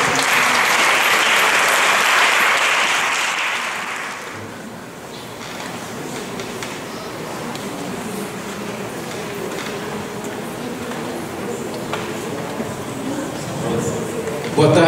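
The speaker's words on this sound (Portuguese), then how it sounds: "Uma salva de palmas para a irmã." Audience applause for Sister Helenita of the Sagrada Família at a 2019 ANBA personality award ceremony, a dense loud burst of clapping that fades after about four seconds into murmuring crowd noise and a voice speaking.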